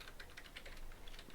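Quick, light keystrokes on a computer keyboard, a rapid irregular patter of clicks, close but quiet, with no talking.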